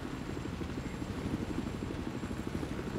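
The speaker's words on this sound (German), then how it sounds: "Dann nehmen wir doch erstmal den Kampfhelikopter hier." An attack helicopter in the video game Battlefield 4, its rotors giving a close, continuous rhythmic thumping over a loud low engine drone.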